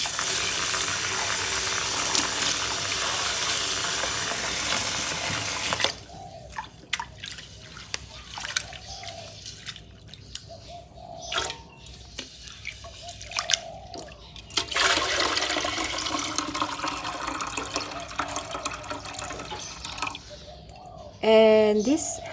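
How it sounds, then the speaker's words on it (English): Water is poured into rice for cooking in a Thai home kitchen, with a steady splashing rush for several seconds, a quieter gap with clinks, then a second stretch of pouring. "And this how you add the water into the rice."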